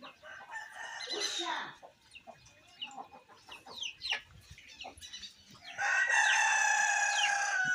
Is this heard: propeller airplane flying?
no